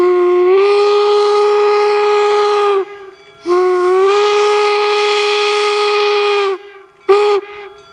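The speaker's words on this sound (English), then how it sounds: "There's our approaching whistles" A loud steam locomotive whistle at Golden Spike National Historic Site blows two long sustained blasts with a pause between, then a short final toot, hissing steam underneath.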